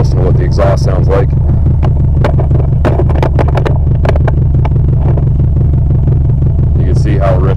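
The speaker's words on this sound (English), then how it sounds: "If you guys can get a good listen to what the exhaust sounds like." Loud, low, steady idle rumble from the exhaust of a Subaru with a SOHC EJ257 hybrid engine running rich at idle, with someone talking over it throughout.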